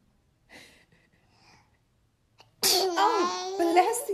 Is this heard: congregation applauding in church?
no